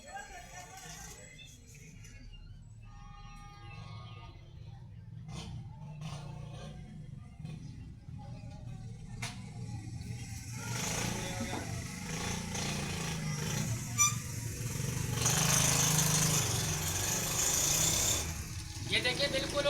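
A sewing machine with a freshly adjusted shuttle gap starts stitching, first with quiet scattered clicks, then building to a steady, loud mechanical whir and rattle. A voice is heard at times.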